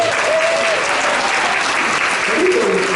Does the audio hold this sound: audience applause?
yes